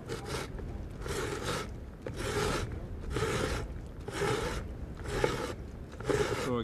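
A hand-turned ice core drill bores into melt pond ice, giving seven regular bursts of coarse, raspy grinding, each about half a second long with short pauses between, steady and close with no talking.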